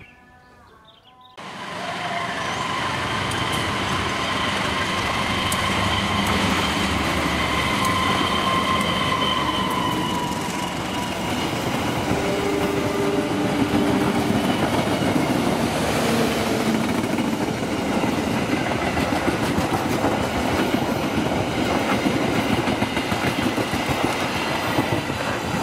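A passenger train rolls past nearby on a sharp curve in Cikarang, Indonesia, with rhythmic wheel clatter and high metallic squeals from the rails, continuous and loud throughout.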